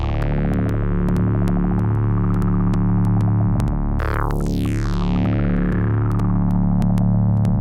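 A modular synthesizer run through a CUNSA filter gives a dense, buzzy, tight sequence with a strong sub-bass, clicking rhythmic pulses and a sweeping filtered chirp midway, loud and continuous.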